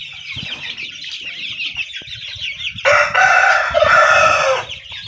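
Sonali chickens about 50 days old cluck softly nearby, then a loud rooster crow breaks out and carries for a couple of seconds.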